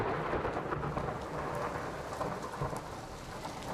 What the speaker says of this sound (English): Action 2 News has been following severe storms all day